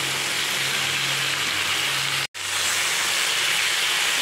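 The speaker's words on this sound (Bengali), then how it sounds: "এবার আমি এসে বেগুনের ঝুড়িটা দিয়ে দিলাম, এটা বেশি ভালো করে ভেজে নিই" Eggplant pieces fry in a pan with a loud, steady hiss and sizzle that drops out for a split second midway, then carries on unchanged. No voices are present.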